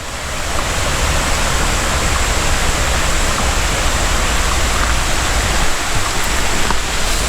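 River water rushing over the Great Falls of Tinker's Creek, a loud, dense, unbroken roar of falling and churning water close by, steady throughout with no voices.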